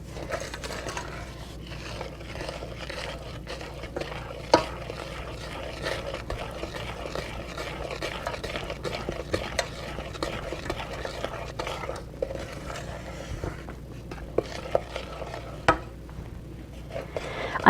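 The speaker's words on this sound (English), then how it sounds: "let's mix that in until it's just blended" A utensil stirs thick chocolate brownie batter in a pot, soft repeated scraping and sloshing strokes with occasional sharp clinks against the pot sides, close and fairly quiet.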